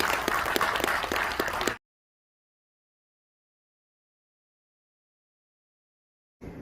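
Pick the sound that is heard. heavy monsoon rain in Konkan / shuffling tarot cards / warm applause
warm applause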